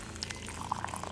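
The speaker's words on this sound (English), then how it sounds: "I just want to get all the water in as quickly as possible." Hot water pours quickly into an AeroPress coffee brewer, giving a steady close splashing trickle with small bright drips and no talk.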